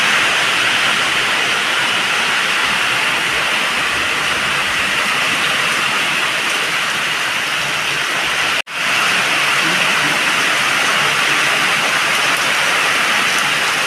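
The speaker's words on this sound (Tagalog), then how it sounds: "Lakas ng ulan." Heavy rain pours steadily onto a roof in cold weather, a loud, dense, unbroken hiss that fills the space, with a brief cut partway through before the downpour continues.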